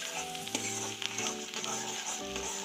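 Sliced onions fry in a pan with a steady sizzle while a spoon stirs them, giving scraping clinks and shuffling over the crackle, close and moderately loud.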